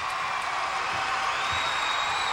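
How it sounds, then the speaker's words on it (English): A large arena crowd at a 1996 professional team gymnastics championship roars with sustained cheering and whooping, a dense, steady wash of noise throughout. "And a huge cheer goes up from the crowd."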